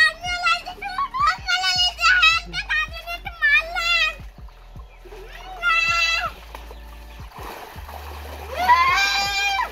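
A child splashes and dives in a fish tank, the water sloshing in short bursts under excited, high-pitched children's voices shouting and squealing close by.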